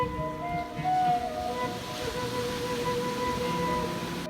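Ocean waves wash ashore in a soft, continuous surging roar with faint tonal hum in the background, no talking.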